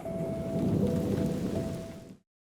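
Rain pouring during a thunderstorm with rumbling thunder, a loud steady wash of noise for about two seconds before it cuts off abruptly, with no voices.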